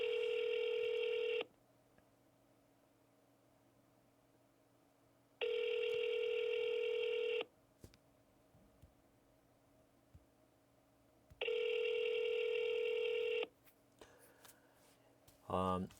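A telephone call being placed: three long bursts of steady ringback tone, each about two seconds, with quiet gaps between them and a brief click or keypress near the end.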